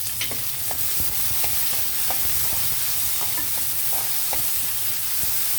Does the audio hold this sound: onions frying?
yes